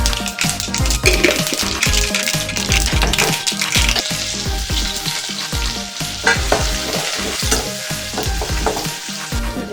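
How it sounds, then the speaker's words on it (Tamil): Mustard seeds and cumin spluttering in hot oil, loud and close, with dense crackling pops and sizzle plus scraping stirring sounds throughout and no one talking. "அதே எண்ணெயில் கடுகு போட்டோம்"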